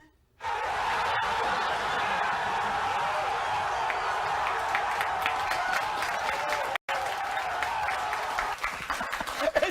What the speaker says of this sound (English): They're applauding that.